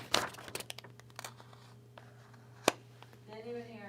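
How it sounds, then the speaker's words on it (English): Paper rattling and crinkling in a quiet room, a burst of crisp rustles at the start thinning to scattered small crackles with one sharp snap, before a voice begins to speak near the end. "You're hearing the paper rattle."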